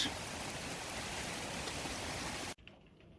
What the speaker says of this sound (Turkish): Ankara'da şu anda çok yağmur yağıyor ve de esintili bir hava var